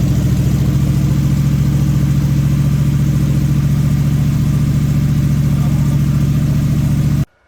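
The engine of a 1970 Super Sport clone truck, rebuilt to period specs, runs steadily at a loud, close idle with a constant low rumble before cutting off abruptly at the end.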